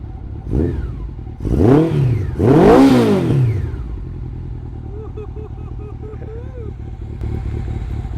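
A Honda CB750 motorcycle with an aftermarket muffler revs hard three times in rising bursts, its exhaust roaring, then settles into a rumbling idle while a person talks over it.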